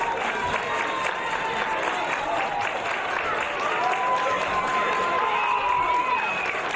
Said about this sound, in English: you can hear this Snodland crowd firmly behind our three young champions here in IPW UK, Sammy Smooth, Danny Duggan and Cieran Donne